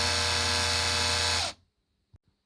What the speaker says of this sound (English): I pre-drilled the middle, and then using 16 I will drill the main hole.